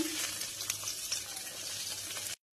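Bay leaf, split dried chillies and cumin sizzle in hot oil as the tempering for a Bengali masoor dal, a steady close hiss that cuts off abruptly near the end.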